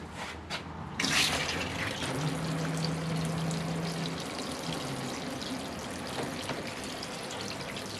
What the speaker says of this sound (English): And now we'll water all three of these at the same time.